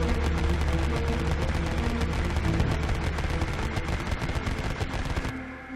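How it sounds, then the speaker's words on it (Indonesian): An automatic weapon fires a long, continuous burst of hundreds of rounds, a dense rapid rattle of shots at steady loudness that cuts off sharply near the end. "moncong senjata otomatis memuntahkan ratusan"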